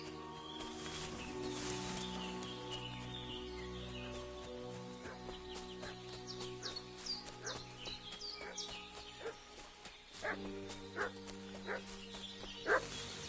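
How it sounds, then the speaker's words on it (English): A dog in a medieval fantasy game barks repeatedly in short agitated bursts with yips and whines, set against birdsong and low background ambience, moderately close and continuing in an irregular rhythm. "What's that dog making such a fuss about?"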